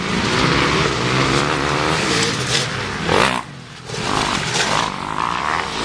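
Motorcycles racing at the Mansfield Toy Run, loud close engines roaring and revving in surges, one sweeping past with a brief dip before the roar returns.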